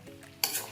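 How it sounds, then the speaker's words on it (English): Sizzling kadai chicken curry with garam masala is stirred in a pan, a single short scrape and hiss close by, quiet and without talk. "Give a stir."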